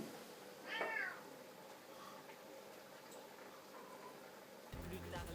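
Cat meowing once, a short rising and falling cry in a quiet kitchen where mussels are being cooked, followed by low room noise and soft clatter.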